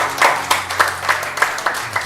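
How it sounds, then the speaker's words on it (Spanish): Applause from a church congregation during an Easter Week vigil service, with a steady wash of clapping and periodic louder bursts, close and continuous over a low background hum. "un aplauso para la pastora"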